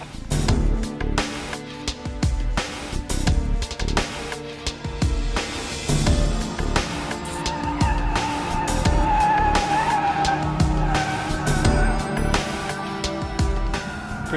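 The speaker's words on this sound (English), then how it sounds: "out there doing skid pad right now. Seeing how much grip it has." A 2014 Cadillac CTS-V Sport runs laps on a skid pad, its tires squealing in long sustained stretches over the engine roar, loud and fairly close.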